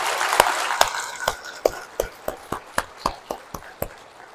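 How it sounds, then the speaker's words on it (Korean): A church congregation at Bansong-dong Catholic parish claps in unison, sharp claps in a slow, steady rhythm, about a dozen evenly spaced beats with a slight echo of the room. "일치된 반송동 성당을 위해서 박수 쳐보세요"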